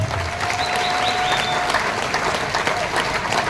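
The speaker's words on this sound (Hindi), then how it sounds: "वो सभी के लिए सम्मानजनक ताली" An audience at a gathering in Surat applauds purchasers and RCM contributors with dense, continuous clapping from many hands, steady and fairly loud throughout.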